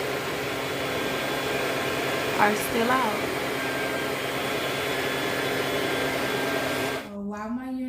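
A hair dryer blows steadily while drying a client's scalp, a loud, even whooshing roar that runs without break before cutting off near the end, with a voice speaking briefly over it.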